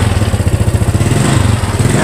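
Motorcycle engine running just after starting, a close, loud, low chugging idle that pulses rapidly and evenly the whole time.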